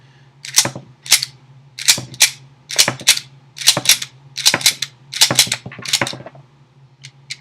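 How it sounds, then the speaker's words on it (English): Pistol slide racked by hand again and again, cycling and ejecting G2 Research R.I.P. rounds: about a dozen sharp metallic clacks in a steady rhythm, loud and close, over a low hum, no talking. "What I'm going to do here is continuously cycle the slide to see how these both load and cycle out of the firearm."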